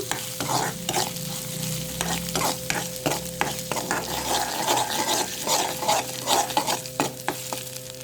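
Ginger garlic paste frying in a pan, a loud steady sizzle with rhythmic spatula scrapes and stirring taps repeating across the whole stretch.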